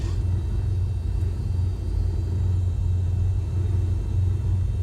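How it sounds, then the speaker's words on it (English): Strong wind buffets a Cessna 172 cockpit on a gusty flight from Shelter Cove toward Arcata, a heavy low rumble mixed with steady engine drone, loud and continuous. "Listen to the winds."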